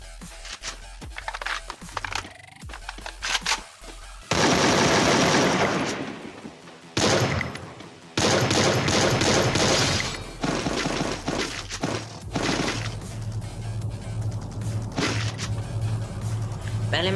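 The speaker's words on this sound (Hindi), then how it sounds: "स्नाइपर टावर में से आते हैं मुझे गोलियों की आवाज़ें" Gunfire rings out in a Free Fire battle royale match near a sniper tower, bursts of sharp shots and breaking crashes mixed with game music and loud effects while someone talks over much of it.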